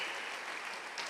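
A brief burst of applause from a church congregation, many hands clapping together in a dense, even patter from a room full of people.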